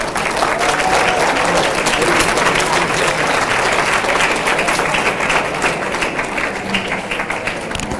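A crowd at a youth bowling banquet applauds its champions with sustained, dense clapping that stays loud and steady for the whole stretch, with a few voices mixed in.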